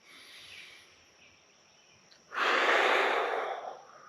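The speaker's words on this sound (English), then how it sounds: "Take another deep breath in." A slow, deep breath drawn in and let out during a guided relaxation exercise, soft and close, with a quiet intake followed by a louder, airy exhale near the end.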